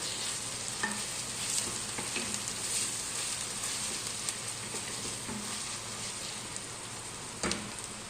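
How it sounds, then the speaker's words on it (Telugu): Ginger and garlic paste fries in a pan with a steady, close sizzle for the whole stretch, broken by occasional stirring scrapes and one louder clatter near the end, while dried fish masala is being prepared. "ఇది కూడా కొద్దిగా పచ్చివాసన పోయేంత వరకు వేపుకోవాలి."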